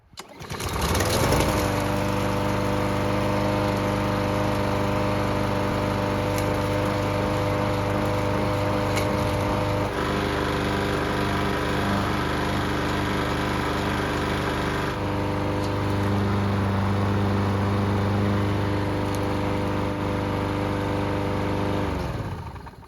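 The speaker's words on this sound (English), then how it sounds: "So it's been running for several minutes and the engine should be good and hot." A lawn mower engine fixed after a pull-rope handle problem fires up and runs steadily at high speed, with a constant buzzing drone that stays loud and unbroken for over twenty seconds before shutting off.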